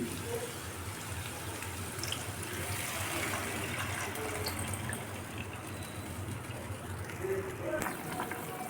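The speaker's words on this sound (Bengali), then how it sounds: "এখন পরিমাণ মতো জল দিয়ে দিচ্ছি" Water is poured into a pan of fish curry cooking on the stove after the ginger paste and spices have been fried until the oil separates, giving a steady, moderately loud splash and fill sound that runs through the whole clip.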